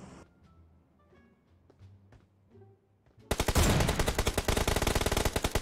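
Rapid sniper and automatic gunfire in the mobile shooter PUBG Mobile erupts suddenly after quiet game sounds, a loud, dense burst of shots continuing to the end.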